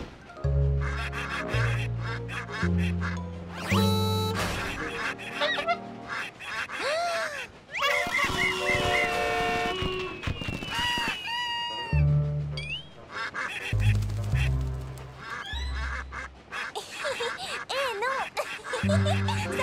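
Cartoon ducks quack repeatedly in bright, comic bursts, with snickering laughter and music mixed in over a busy animated soundtrack.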